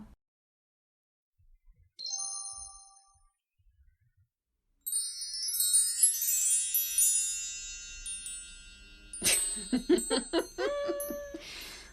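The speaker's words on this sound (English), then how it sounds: "Do you like our bootleg chimes?" Bright metal chimes ring out: a brief single tone first, then a longer stretch of overlapping tinkling strikes that shimmer and decay, fairly clear and with no voices.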